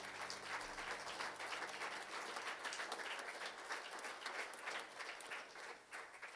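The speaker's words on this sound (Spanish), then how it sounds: "Le podemos dar un fuerte aplauso a nuestro Dios." A church congregation applauding, a steady wash of many hands clapping that sounds distant and fairly faint, with no voices over it.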